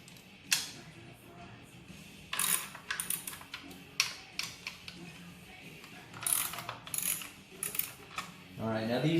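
A socket wrench with a deep socket ratchets out lightly Loctited bolts on a Harley-Davidson Softail Slim motorcycle during an Arlen Ness Big Sucker air cleaner install. The quick clicking comes in close, repeated bursts separated by short pauses, with no talking.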